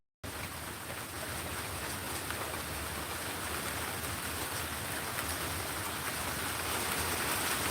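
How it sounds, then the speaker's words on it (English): Rain drumming on a tin roof, a dense continuous patter and hiss that starts abruptly after a brief silence and holds at an even level. "it does sound like rain on a tin roof"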